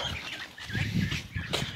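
Startled Old Polish ducks on a farm flap their wings in a flurry of close, rustling beats, with soft quacks and fowl noises mixed in.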